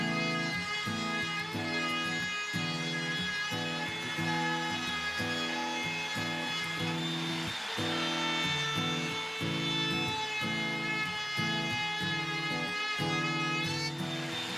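Sanding the chamfered wooden edges, tip and tail of a homemade wooden snowboard, a steady rhythmic rasping rub repeating in even strokes, close and continuous throughout with no talk.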